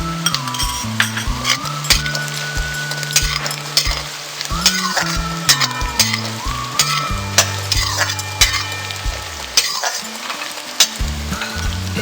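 Green chillies and golden-brown onion fry in mustard oil for stuffed masala parwal, a loud crackling sizzle with repeated spatula stirring and metal clinks against the pan.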